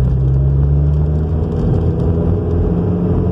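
A modified 2004 Audi A4 1.8T with a K04 turbo is being driven, and its engine gives a steady, loud low rumble and hum heard from inside the car with no talking.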